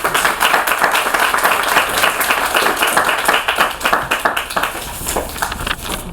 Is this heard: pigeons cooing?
no